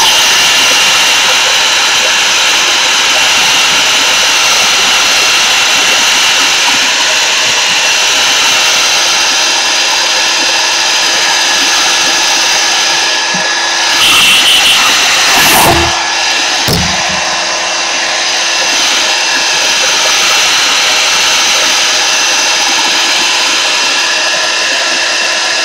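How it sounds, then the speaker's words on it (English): A blow dryer runs loud and close, drying matte medium on a stenciled paper artwork, a steady high rushing whoosh that holds throughout with brief clatter and shifts in the middle. "I'm going to dry it a little bit"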